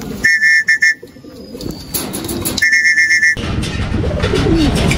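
Homing pigeons, including one named Blue Bar, return to their loft after a race, with close bird calls and cooing in short bursts over an outdoor background rumble.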